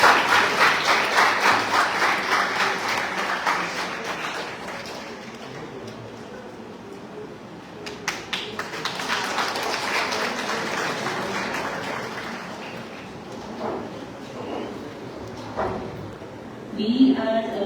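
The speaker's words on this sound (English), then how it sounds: "Everyone please take a round of applause." An audience at a mangrove conservation seminar claps steadily at moderate volume, the applause thinning out partway through with a few scattered claps near the end.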